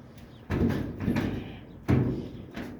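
Door of a 1929 Chrysler passenger car fitted with a bear claw latch, shutting tightly in two firm, solid thumps about a second and a half apart, close by, with lighter clunks between them.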